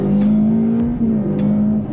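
A Ferrari F8 Spider, the open-top mid-engine V8 supercar, accelerates hard with a loud, steady engine drone that rises slightly in pitch, heard close up with no talking.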